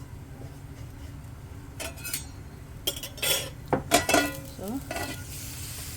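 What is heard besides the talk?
tempering seeds sizzling in hot oil in a kadai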